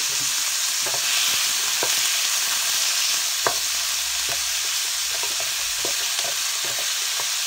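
Broccoli and carrot stir-fry in a hot pan with a loud, steady sizzle and hiss, broken by scattered scraping knocks from stirring.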